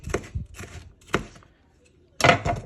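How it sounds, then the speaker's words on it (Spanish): Knife slicing a green bell pepper into strips on a board, four crisp, separate cutting strokes with short pauses between them, close and clear with no talk. "Voy a cortar un chile morrón verde, así en tiras."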